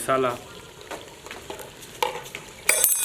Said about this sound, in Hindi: मसाला शामिल करने के बाद एक आध मिनट के लिए भून लेना है।